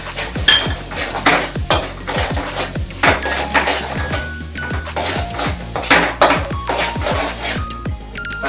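Bread halwa with cashews, almonds and raisins being stirred in a pan, with loud, close metallic scraping and clanking of a spoon against the pan in a quick, irregular rhythm and no talking.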